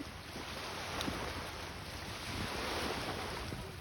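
Sea surf washing onto the shore at Yalova, a steady broad rush of waves mixed with wind buffeting the microphone, close and continuous without speech.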